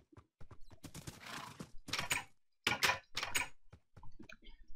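A Minecraft horse makes a run of clip-clop hoof beats in quick bursts, followed by a neigh. The sound is close and clear, with no talking.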